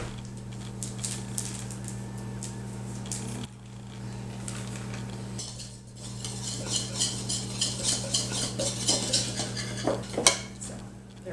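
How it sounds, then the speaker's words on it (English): Powdered sugar being whisked into an orange glaze in a bowl, a rapid run of light metallic clicks and taps against the bowl growing busier and louder toward the end, close by. "we're going to just add this powdered sugar and whisk that till smooth"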